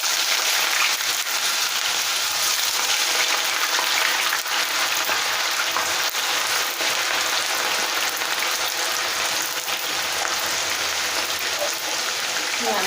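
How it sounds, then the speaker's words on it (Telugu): Potato pieces frying in hot oil for crisp, crunchy aloo fry, a dense continuous sizzle and crackle that holds steady and loud throughout. "ఇవన్నీ కూడా మంచిగా బ్రౌన్ కలర్ వచ్చే వరకు ఫ్రై చేసుకుంటే సరిపోతుంది."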